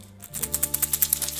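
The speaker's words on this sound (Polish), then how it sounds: "nasze jajka zamieniają się magicznie w grzechotki" Rapid rhythmic rattling of egg-shaped shakers, like small beads shaken inside a hollow shell, a quick run of crisp pulses.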